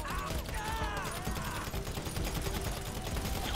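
Automatic weapon fire in GTA 5 during the Cayo Perico Heist finale, a dense, continuous rattle of shots blending with game noise and faint whistling tones, with no pauses.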